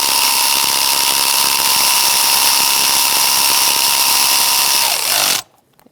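Continuous loud power-tool whir drives a 10mm socket that snugs bolts on a 2010-2013 Kia Soul 2.0L L4 engine. The high, steady spin holds for about five seconds, then winds down and stops abruptly.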